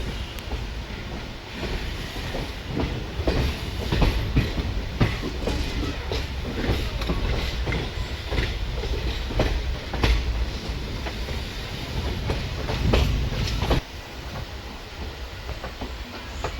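The Guruvayur Express runs along the rails near Tirunelveli, with a continuous loud rumble and hiss broken by repeated clickety-clack wheel beats over rail joints, steady throughout with no voices.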